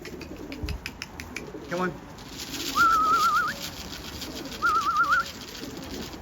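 A racing pigeon hen calls near a loft at the end of a long-distance race; a man coaxes it aloud while brief whistled, warbling notes and light flutters come through.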